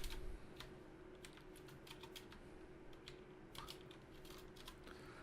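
Quiet, close typing on a computer keyboard while coding, an irregular patter of key clicks with occasional quick runs of strokes over a low steady hum.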